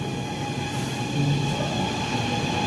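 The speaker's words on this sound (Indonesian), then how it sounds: "Suara traksinya teman-teman" A steady CRRC KRL electric commuter train traction motor drone with a sustained tonal whine and rumbling rail noise, fairly close and continuous throughout.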